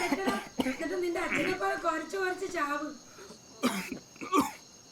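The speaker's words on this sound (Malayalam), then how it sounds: "ഭയങ്കര ചുമയാണല്ലോ" A voice speaks, then a couple of sharp, harsh smoker's coughs break in near the end, close and fairly loud.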